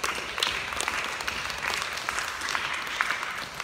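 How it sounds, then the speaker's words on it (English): A church congregation applauds in a steady, dense wash of clapping that fills the room at an even level from start to finish, with no talking over it. "give you guys a huge round of applause again"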